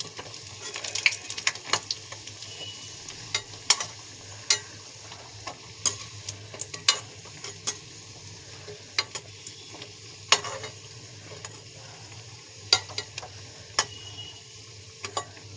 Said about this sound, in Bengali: প্রথমে বড়িগুলোকে আমি কড়াইতে ভাজতে দিয়ে দেবো, লাল লাল করে বড়িগুলোকে ভেজে দেব।